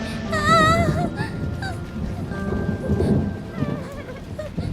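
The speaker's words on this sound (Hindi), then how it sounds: "कितनी तेज बिजली चमक रही है।" Rain and rumbling thunder in a thunderstorm in an Urdu cartoon, a low churning roar under whimpering, high-pitched cartoon vocal sounds.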